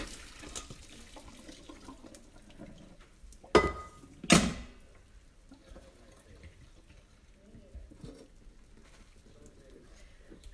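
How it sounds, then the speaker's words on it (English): Pasta water drains from an Instant Pot in two short, loud splashing pours close by, followed by quieter kitchen handling and a speaking voice. "I'm just going to come right here and drain my pasta"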